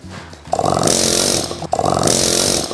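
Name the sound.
pneumatic hammer roughing out stone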